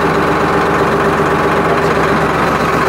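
An old 2008-model tractor with some 15,000 hours on it runs at a steady, loud idle, a continuous close diesel drone with a low, even rumble and no pauses.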